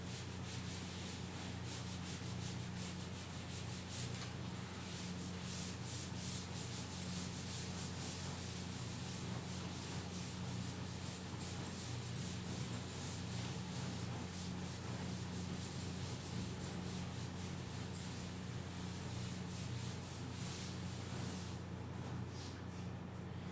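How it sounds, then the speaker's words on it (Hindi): A classroom board being rubbed clean during a maths lesson, a continuous dry scrubbing and wiping that runs steadily for over twenty seconds with no pause, close and alone over a low electrical hum. "चलिए इसको मैं अब रब कर देता हूं।"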